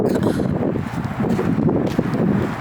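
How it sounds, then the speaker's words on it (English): Wind batters the microphone on an outdoor walk around Lady Bird Lake in Austin, Texas, a loud, dense, unbroken rumble with slight rustling throughout. "So it's kind of windy, so I don't know if you can hear me"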